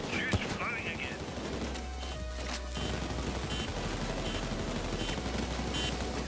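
Gunfire rattles through a heist at Buluc's Mansion in the video game Payday 2, with loud sustained volleys of rapid shots and a few sharp cracks layered under busy game noise.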